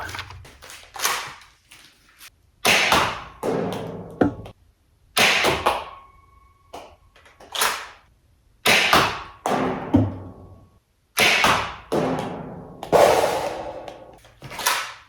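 A Nerf Rival Pilot blaster fires foam balls in loud, close bursts of sharp snaps and thuds, grouped into repeated volleys separated by short pauses, with no talking.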